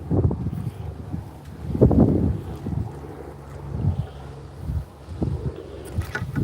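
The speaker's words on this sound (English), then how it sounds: "The wind just tried to blow the camera" Gusty wind buffets a camera outdoors on the water while fishing, a rough low rumble swelling and easing in loud bursts, with no talk.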